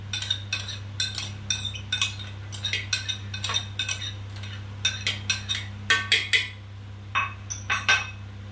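A metal spoon scoops curd into a mixer jar for malai lassi. Crisp, rhythmic clinks and taps repeat quickly and close by over a low steady hum.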